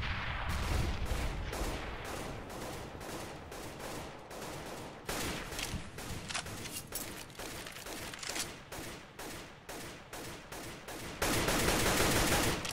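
Dense gunfire from a Counter-Strike match on the Cache map, with rapid overlapping bursts of rifle and automatic fire, loud and close, running continuously with brief gaps and a heavier burst near the end.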